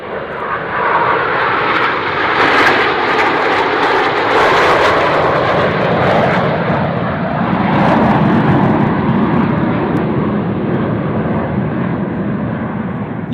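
Display team airplanes fly a formation maneuver at an airshow, their engines a loud, sustained roar that swells and holds steady as they pass overhead.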